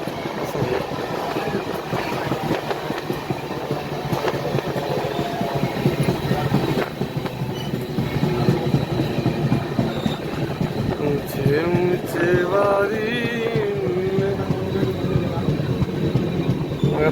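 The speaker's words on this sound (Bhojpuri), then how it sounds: "बड़ा ही खूबसूरती के साथ घूमती है ट्रेन" A passenger train on the Ara to Mumbai route rolls along with steady rumbling and rhythmic wheel clatter, plus some squeal. Voices can be heard talking over the continuous noise.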